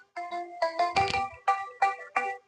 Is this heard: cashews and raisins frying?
no